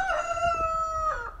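A rooster crowing loudly nearby, a single long, sustained cock-a-doodle-doo that bends down at the end, heard alone outdoors.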